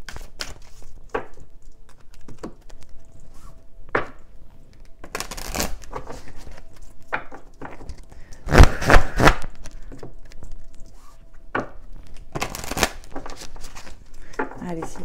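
A deck of cards is shuffled by hand for a spiritual guidance card reading, bursts of riffling and slapping card noise at irregular intervals, close and fairly loud, with soft speech between them.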